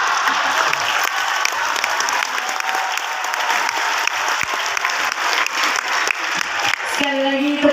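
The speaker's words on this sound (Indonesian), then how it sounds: "Sekali lagi tepuk tangan yang meriah untuk Mas." Sustained audience applause at a formal ceremony in Bekasi, dense steady clapping from a crowd holding at even loudness throughout, with a voice starting to speak over it near the end.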